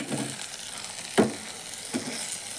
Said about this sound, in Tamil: சேர்த்து நல்லா கலந்து கொடுங்க.